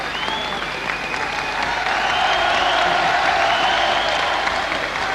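A large crowd at a Holland versus Japan kickboxing match applauds Japanese fighter Saito, a continuous wash of clapping that swells slightly toward the end, with occasional whistles cutting through.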